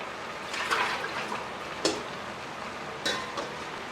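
A spoon stirs breadfruit simmering in coconut stewed chicken in a pot, with a soft continuous bubbling sizzle and a few sharper scrapes against the bottom.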